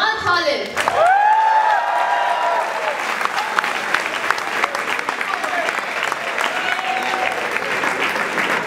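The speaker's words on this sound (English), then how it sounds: "A round of applause for Imran Khalid." A large audience at a cricket trophy-tour event at LUMS applauds cricketer Imran Khalid, loud sustained clapping with some cheering, a voice over the opening and a reverberant hall-like wash.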